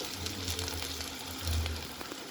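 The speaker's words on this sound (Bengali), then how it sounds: "এখানে পেঁয়াজটা আমি ভালো করে ভেজে নিচ্ছি" Onions frying in a pan give a steady, close sizzle and crackle that runs throughout without pause.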